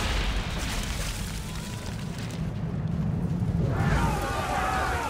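Ship cannons fire in a naval battle from Assassin's Creed III, a continuous heavy low rumble of booming blasts rolling under shouted orders from the crew.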